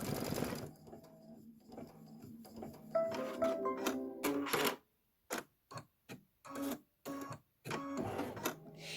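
An embroidery sewing machine stitching a decorative stitch, a fast mechanical whir and rattle that runs steadily, then breaks into short separate bursts of stitching with pauses between.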